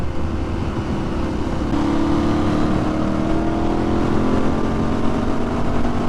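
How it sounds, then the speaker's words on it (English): Aprilia Shiver 900 motorcycle engine held near redline at full throttle, a steady loud droning roar with a rising tone as speed builds, heard from on the bike with wind noise and no talking. "All I'm doing is really redlining the engine when I do that."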